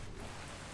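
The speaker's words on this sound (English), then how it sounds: "There's also a bunch of rain." Steady rain falling in the survival game Atlas, a dense continuous hiss of drops that stays even and close throughout the brief moment, with no other sounds standing out.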